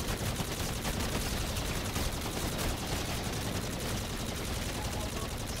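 Rapid automatic gunfire from the video game Infinite Warfare zombies mode, dense continuous bursts of shots that fill the whole stretch at a steady high level.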